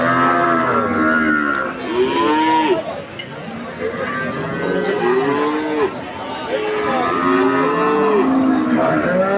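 Friesian dairy cows and calves moo repeatedly in long, drawn-out calls at the traditional Ambari cattle market, loud and close, over steady crowd chatter and market bustle.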